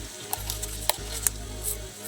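Pulao rice hits the pot and sizzles in hot oil, giving a steady frying hiss with a few sharp clinks of a utensil against the pot, close and fairly loud.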